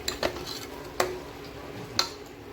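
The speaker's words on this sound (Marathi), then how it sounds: "पनीरच्या भाजीचा मसाला भाजायला टाकला आणि इकडे तूप कडवायला ठेवलं" Spice masala for a paneer butter masala curry roasts in a pan while ghee heats nearby, a soft steady sizzle broken by three sharp, evenly spaced clicks of a utensil against the pan.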